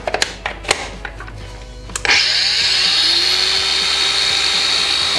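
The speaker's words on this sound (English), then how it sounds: "let's test the angle grinder" A Makita 18V angle grinder run from 230V mains: a few clicks and knocks, then the motor spins up sharply into a loud, steady high-pitched whine held to the end.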